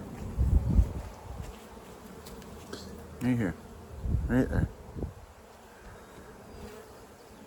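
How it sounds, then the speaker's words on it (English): Honey bees hum steadily in an opened hive during a June inspection, a close, continuous buzz beneath intermittent soft talking from a nearby person. "Oh, look, there's a bee emerging."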